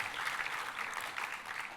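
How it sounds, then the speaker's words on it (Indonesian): A church congregation at an Indonesian worship service claps for God in a steady, dense wash of applause that sounds somewhat distant and fairly faint. The clapping holds at an even level throughout. "Tepuk tangannya pula yang paling meriah buat Tuhan kita"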